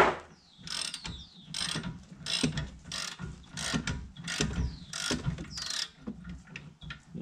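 A hand ratchet working on the 15mm rear brake bolts of a 2014 Ford Fusion Titanium, rapid clicking bursts repeating in a steady rhythm of strokes, close and fairly quiet with short pauses between pulls.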